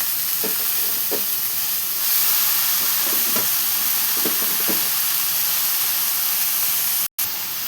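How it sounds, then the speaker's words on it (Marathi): Spinach frying in a pan with oil, a steady loud hiss and sizzle throughout with faint stirring knocks, close, cut off briefly near the end. "बघा आता मी ही पालकची भाजी टाकून घेतलेली"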